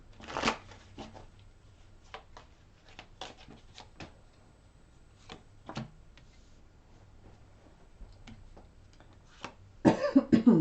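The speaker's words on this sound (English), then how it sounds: "One more shuffle." A deck of tarot cards riffled and shuffled in several quick bursts, close and crisp, with a cough near the start and a louder flurry of handling at the end.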